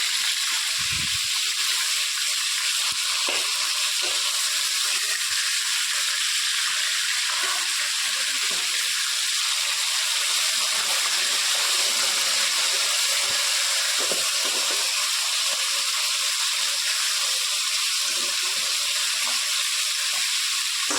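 Boriola fish, cooked with spinach and tomato, frying in a pan with a steady soft sizzle and hiss throughout, with a few faint clinks of stirring and no talk.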